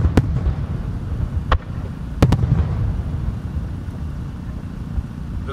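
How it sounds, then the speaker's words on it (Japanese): Fireworks bursting at the 2018 Omagari fireworks festival in Japan, a few sharp booming reports spaced irregularly over a steady low rumble of crowd and ambient noise. "線香花火のような暗いオレンジ色の花火、わび。"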